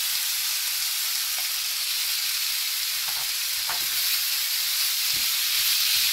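Partly cooked rice tipped into a hot pan for Schezwan fried rice sets off a loud, steady sizzle with a few brief clinks and scrapes, and no voices.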